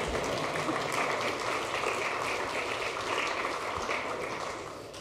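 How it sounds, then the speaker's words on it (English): Audience applause at a talk on robots and JavaScript, a sustained crackle of many hands clapping at steady strength that tapers off over the last second. "Love applause. Just bring it on."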